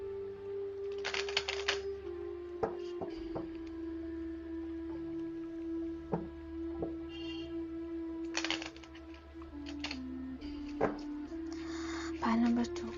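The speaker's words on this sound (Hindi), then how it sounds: "सो मैं फिर से शफल करूंगी।" A deck of cards shuffled during a tarot-style card reading, with a few short riffling bursts and snaps spread through steady background hum and faint tones, no speech.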